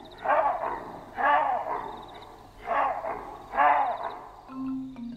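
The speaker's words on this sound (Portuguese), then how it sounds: "Esta espécie de macaco é associada ao cachorro porque emite um som parecido com um latido." Four hoarse, dog-like bark calls from a monkey in Mozambique, evenly spaced and fairly close, followed by a faint short whine at the end.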